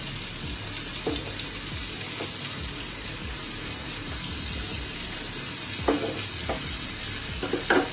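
Pieces of pointed gourd (potol) fry in a pan for a korma with a continuous close sizzle and crackle. A few sharp clinks of utensils cut in near the end.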